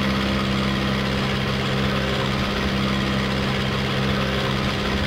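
Tiger Moth biplane engine droning steadily in flight in Microsoft Flight Simulator, a constant loud hum with a steady low tone that holds without break and no talking.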